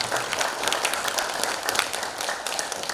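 An audience applauds at a cultural center's anniversary ceremony, dense clapping sustained evenly throughout without talk.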